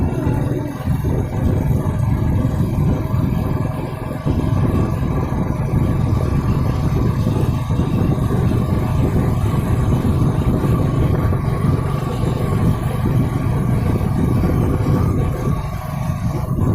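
A motorcycle engine hums steadily and close up while being ridden at moderate speed, with a constant low drone and rushing wind that run the whole length without a break.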